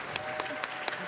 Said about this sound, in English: can we still get a round of applause for Flowform?